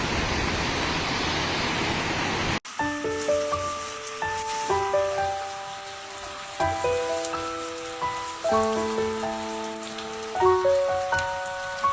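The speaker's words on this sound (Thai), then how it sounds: "ฝนตกหนึ่งวันกับหนึ่งคืน" Steady rain falls with a dense, even hiss for about two and a half seconds. It then cuts abruptly to a sequence of clear, plucked melodic tones.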